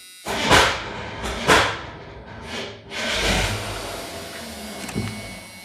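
The starter motor of a 1986 Chevy Suburban, suffering from heat soak, grinds through several strained cranking bursts: two short surges, then a longer labored whir that fades, all close and without talk.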